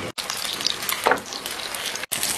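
A small pan-fried meat pie sizzles steadily in a hot pan, with a dense crackling hiss that breaks off twice in brief pauses, close up and without any speech.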